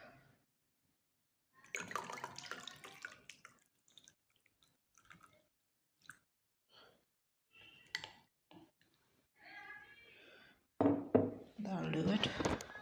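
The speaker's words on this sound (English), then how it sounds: "start pouring it and filtering it into this other glass that's also containing water" Red cabbage water is poured and filtered into a glass already holding water, giving intermittent splashing, trickling and light clinks between pauses, with occasional talk.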